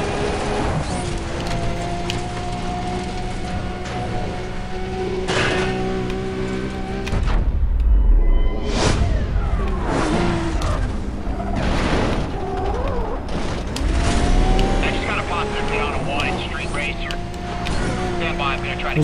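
A Porsche races through the Need for Speed Undercover video game, its engine droning loudly with rising and falling revs, punctuated by deep booms and mechanical clunks throughout.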